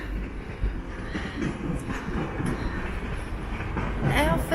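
A train at Sundsvall station just after passengers step off, steady rumbling rail noise with a faint squeal of wheels near the end, no talk.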